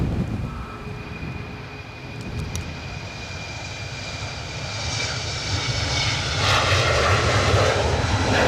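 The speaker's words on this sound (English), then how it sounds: "British Airways on the roll." A British Airways airliner on its takeoff roll at Edinburgh gives a loud, continuous jet engine roar that builds steadily in strength and stays in the middle distance, with no one talking over it.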